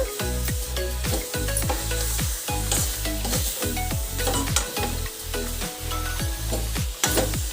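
Coconut-and-jaggery filling (hoorana) for holige roasting in a pan over a medium flame, a steady loud sizzle broken by repeated rhythmic scrapes of a spoon stirring through the mixture, close up with no voices.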